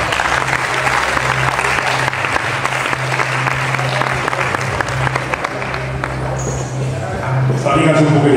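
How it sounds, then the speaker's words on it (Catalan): Crowd applause at a festival dinner gathering in Alzira, dense and sustained, with a low steady hum beneath and a voice near the end. "Per totes elles, un gran aplaudiment,"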